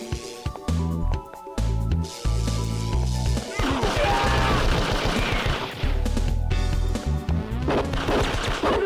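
Gunfire in the arcade game Elevator Action 2 hits the player, amid repeated sharp shots and crashes over a driving game-music soundtrack, with a voice talking underneath.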